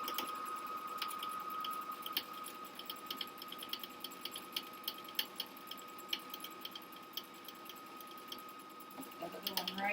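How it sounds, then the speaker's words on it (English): A sewing machine stitches a quarter-inch seam along the edge of a fabric filter pocket mask, giving a steady mechanical whir with fast rhythmic ticking of the needle that keeps going close up and on its own. "So I'm just going to go ahead and run a 1/4 inch seam right down there."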